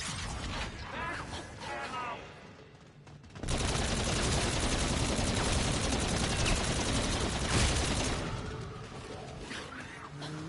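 Sustained loud automatic gunfire in a zombies video game, a dense continuous rattle lasting several seconds before easing off into quieter game sounds.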